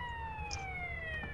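A fire truck siren in GTA Vice City Stories, steady and wailing with slowly falling tones, fairly quiet under a low engine rumble and game ambience.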